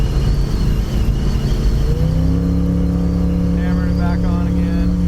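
A 1958 Chevy Impala two-door hardtop engine drones close up, its pitch dropping and then settling into a steady higher hum as it shifts gears during driving, with a voice speaking over it.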